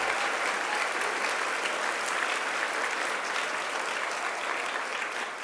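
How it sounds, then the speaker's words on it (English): Sustained applause from a conference audience at a national education gathering, dense and steady throughout, a large crowd clapping together with no voices standing out. "Give them a big round of applause for all that they've done"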